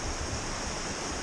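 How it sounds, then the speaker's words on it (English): Rushing water of the Nolichucky River on the Appalachian Trail, a steady broadband roar of flowing current heard close and loud without any voices. "Going across the Nolichucky River."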